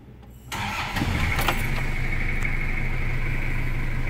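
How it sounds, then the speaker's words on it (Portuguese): Toyota Hilux pickup from the 1992–2004 generation cranking briefly and starting, then settling into a steady, fairly loud idle that runs to the end. "aí você dá partida nela."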